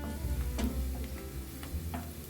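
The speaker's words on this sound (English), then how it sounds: "Now add the sliced onions to your heated oil and cook until soft and translucent, about 5 minutes." Sliced onions frying in heated oil, a soft, fairly quiet sizzle with a few faint clicks of stirring over a short stretch, and no talking.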